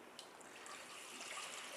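Water poured steadily into a pot of beef biryani with masala in a home kitchen, a soft continuous trickle and splash heard close and fairly faint throughout.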